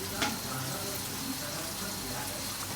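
Spice mixture frying in a pan as turmeric goes in, a steady close sizzle with a faint stir or clink near the start, continuous and even.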